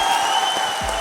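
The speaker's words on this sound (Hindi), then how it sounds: "एक ताली बजा सकते हैं।" An audience at an event claps together, a loud burst of dense applause filling the short moment.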